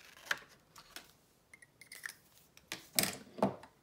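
Scissors snip a small piece out of craft material, ready for an acorn punch, giving a few short, crisp cutting clicks and rustles close by, with scattered pauses between snips.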